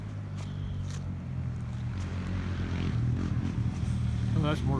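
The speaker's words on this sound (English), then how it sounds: "Oh, that's a motorcycle." A motorcycle passes on a rural road near a creek crossing and bridge, its engine a steady mid-distance drone that builds slightly as it goes by, with faint clatter and distant voices mixed in.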